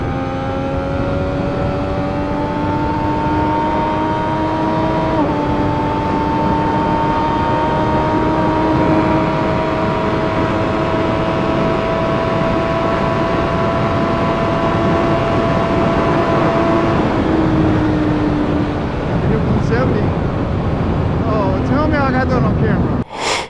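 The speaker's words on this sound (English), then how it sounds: "I came across a Triumph Daytona 675 top speed run, 170 miles per hour" A Triumph Daytona 675 sport bike screams at a steady high pitch on a top-speed run at about 170 mph, one long sustained drone with slight pitch steps, loud and close throughout, easing off near the end.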